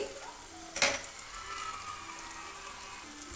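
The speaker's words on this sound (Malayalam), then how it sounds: "ഇത്രയും ചേർത്ത് ഒന്ന് നന്നായി മിക്സ് ചെയ്ത് കൊടുക്കുക. പൊടികളുടെ എല്ലാം പച്ചമണം മാറുന്നത് വരെ ഒന്ന് മിക്സ് ചെയ്ത് കൊടുക്കാം." Chili powder, garam masala and turmeric being stirred into chicken in a pan for restaurant-style chicken chukka, with a low steady sizzle and one sharp scrape of the spoon near the start.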